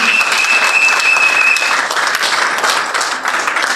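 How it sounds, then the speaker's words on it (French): Loud, continuous clapping from a church congregation applauding in worship, a dense wash of hands with a thin whistle-like tone threading through the first couple of seconds. "Give a clap of it to the Lord Jesus."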